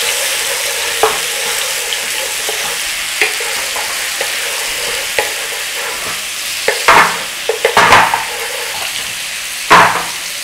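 Garlic ginger paste sputters loudly in hot oil for a chicken jalfrezi, a constant bright sizzle close up, broken by scraping stirs and several louder spitting crackles that bunch together in the second half.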